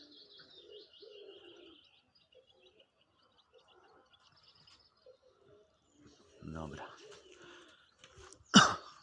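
Domestic homing pigeons coo softly at a loft, with faint, low, rolling calls at the start. Quiet stretches follow, then a few louder flutters and bumps near the end.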